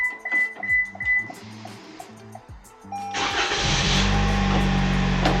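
A 2023 Toyota Camry engine starts by remote start with the door open: a few faint clicks and chimes first, then the engine catches and settles into a steady, fairly loud idle.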